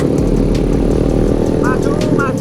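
A motorcycle running a Jupiter remix engine chugs steadily close by, its rough mid-pitched rumble continuous under a busy background.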